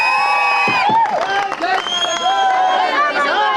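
A crowd at a village election campaign rally in Dudigam, Mendora mandal, with Minister Vemula Prashanth Reddy present, cheers and shouts in loud overlapping voices, a lively roar of whoops and calls from many people close by.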